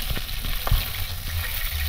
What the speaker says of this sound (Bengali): চিকেনগুলো এরকম লাল করে ফ্রাই করে নিচ্ছি